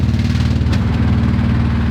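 A steady, loud car engine rumbles close by as it drives past, holding an even low drone through the short stretch with no one speaking.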